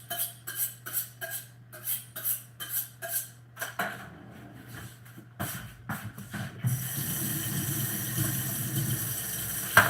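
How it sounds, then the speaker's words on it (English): A kitchen knife blade is honed with about eight quick, evenly spaced scraping strokes, then a steady rushing hiss takes over near a pot of boiling water. "I'm just going to hone the blade."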